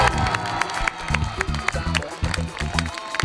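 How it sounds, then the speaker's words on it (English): A crowd cheers and applauds the trebuchet crew at Warwick Castle, a sustained mix of shouts and clapping from a nearby audience with a steady roar throughout. "So can we please have a big cheer for the crew?"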